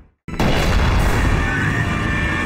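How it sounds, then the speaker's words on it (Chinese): A building blows up in a film: a sudden heavy boom after a brief silence, then a loud, sustained roaring rumble of blast and debris. "只听砰的一声，对面的楼发生了爆炸。"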